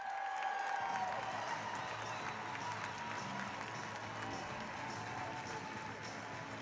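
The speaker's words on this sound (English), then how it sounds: "Listen to this crowd." A hockey arena crowd applauds and cheers at the end of a period, a broad, distant roar of clapping that holds steady, with the horn tone fading out at the start.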